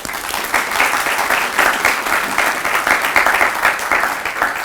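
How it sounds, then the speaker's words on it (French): Sustained applause from an audience of former foreign students at a university gathering, dense steady clapping filling the room with no voices over it. "je voudrais vraiment vous remercier et que vous puissiez également vous applaudir"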